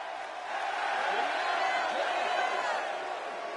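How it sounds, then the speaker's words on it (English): A large video game arena crowd in the WWE 2K17 Las Vegas setting roars and cheers continuously at moderate volume, a dense wash of voices with no single caller standing out. "Would you listen to this crowd?"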